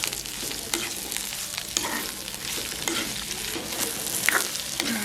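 Ingredients for a shark fish curry fry in oil in a pan with a continuous close sizzle and occasional stirring clinks and scrapes.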